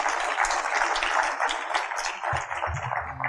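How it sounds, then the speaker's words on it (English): Conference attendees clap together in a brief burst of applause that thins toward the end as a low voice begins to speak over it. "So give ourselves a round of applause."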